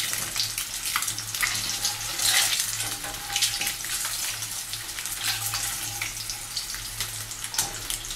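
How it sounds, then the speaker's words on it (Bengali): An egg fries in a pan while chicken stew is being cooked, giving a continuous, fairly soft sizzling crackle with no talking. "ডিমটা ভাজা লাল লাল করে ভাজা হয়ে গেছে।"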